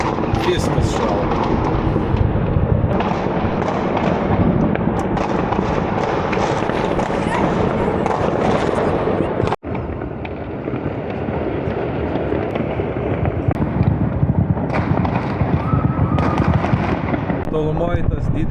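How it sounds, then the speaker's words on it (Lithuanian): New Year fireworks over Lisbon crackle and pop across the city in dense, continuous bursts, some distant and some nearer, while people talk over them. "Ten tolumoj tai visas miestas fejerverkas"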